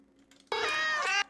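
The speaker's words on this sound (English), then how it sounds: "Beefy sent his cat Sunny. Here is Sunny" Sunny, a guest cat, lets out one long, loud meow close by, held for most of a second after a brief quiet lead-in.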